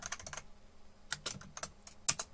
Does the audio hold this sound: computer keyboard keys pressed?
yes